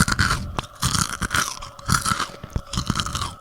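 A creature chewing in a horror story, wet crunching bites in uneven bursts, close and loud, with brief pauses between mouthfuls.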